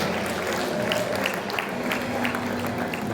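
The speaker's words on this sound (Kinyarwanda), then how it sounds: "natwe tubakomera amashyi menshi cyane" Guests at a Rwandan wedding reception applaud, a steady, dense wash of clapping with crowd murmur throughout.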